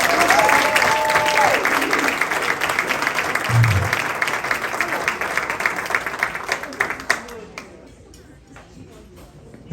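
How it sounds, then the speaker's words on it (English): Applause from the audience at a school district hall of honor induction ceremony for a jazz band, a full crowd clapping steadily, then thinning to scattered claps and fading out near the end. "let's have one more big round of applause for our Jazz Cats."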